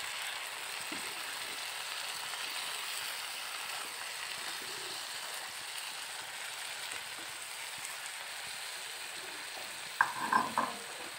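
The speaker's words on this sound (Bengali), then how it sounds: "জল দিয়ে ভালো করে কষাবো।" Chicken pieces for tawa chicken are cooked down in a pan with a splash of water, giving a soft, continuous sizzle with a brief clatter of stirring near the end and no talking.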